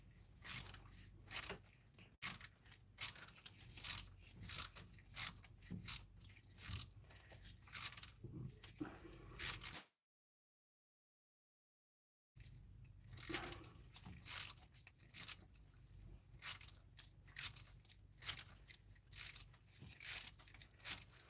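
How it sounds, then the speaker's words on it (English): A ratchet with a 12-point socket turns a thread-chasing tap dipped in acetone through a head stud thread on a 1996-2005 Chevy Astro, rapid close metallic clicking strokes in regular bursts, pausing briefly midway, with no talk. "using this ratchet with a 12-point socket on it"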